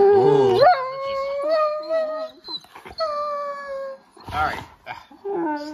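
A Doberman puppy howls and whimpers close by, late at night, letting out several wavering, high-pitched cries broken by short pauses and softer whines.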